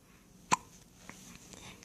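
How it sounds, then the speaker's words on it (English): A baby boy gives a single sharp hiccup, a brief close squeaky catch of breath, followed by soft faint rustling and quiet room noise. "Do you get hiccups?"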